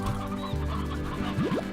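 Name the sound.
hens clucking in video game Slime Rancher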